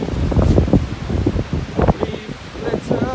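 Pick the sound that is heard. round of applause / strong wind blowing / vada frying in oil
strong wind blowing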